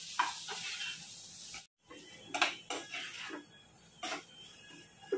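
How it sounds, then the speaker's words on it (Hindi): Mixed vegetables cooking in sauce in a pan over a medium gas flame for Indian-style veggie pasta are stirred with a utensil, giving soft intermittent scrapes and light sizzling in a quiet kitchen. "अब इन सब चीजों को हमें अच्छी तरह से 2 मिनट तक मिक्स करके पका लेना है"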